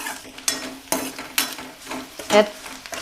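Fenugreek seeds, onion and curry leaves fry in hot oil with a steady sizzle, broken by a few sharp, regular stirring scrapes from a spoon in the pan, with no voices.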